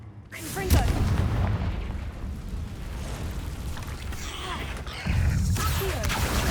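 A fiery spell blast from the Hogwarts Legacy video game booms deep and rumbling, with a second low impact following midway, under continuous game ambience.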